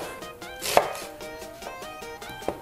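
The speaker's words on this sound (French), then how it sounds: "Donc je vais le couper en deux" A knife chops an onion in half on a board for Portuguese cod fritters, giving a crisp cut and a few light taps, close and quiet, with no talk.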